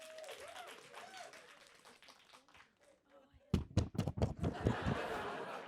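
Live podcast audience breaking into scattered applause: a few sharp claps first, then a burst of clapping from a studio crowd lasting a couple of seconds after a stretch of talk.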